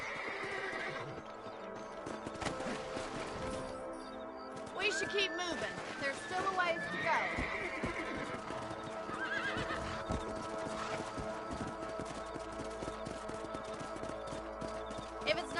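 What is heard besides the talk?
horse neighing and hooves, from video game Red Dead Redemption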